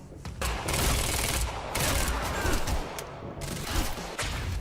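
Gunfire in the video game Quantum Break, dense bursts of rapid shots packed together in loud volleys with brief gaps between them, close and alone without talk.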